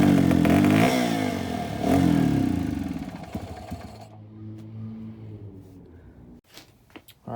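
An XR250L motorcycle engine with a freshly tuned carburetor revs hard on the throttle, a loud, rough roar with rising and falling pitch, then cuts out into quieter clatter and scraping near the end.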